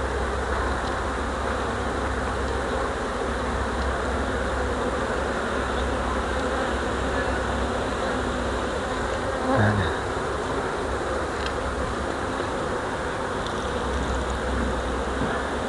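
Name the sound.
honey bees buzzing around hives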